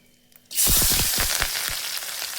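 Green chilli, garlic and onion hit hot oil with a sudden loud burst of sizzling that crackles and pops, then settles into a steady strong frying hiss, close and alone.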